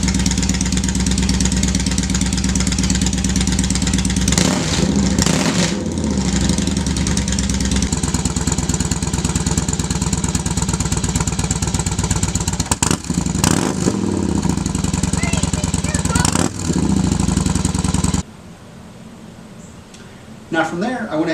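A Yamaha Warrior 1700 V-twin motorcycle fitted with a Cobra swept exhaust idles with a loud, lumpy throb and is blipped in several sharp revs before the engine note drops away near the end.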